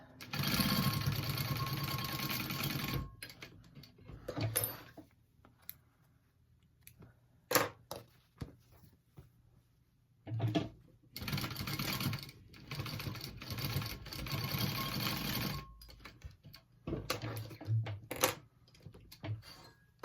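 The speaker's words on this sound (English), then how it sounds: "So just baste your sides down." A sewing machine bastes down the sides of a diamond-pattern clutch wallet, running in several bursts of steady mechanical whirring separated by pauses with quiet handling noises.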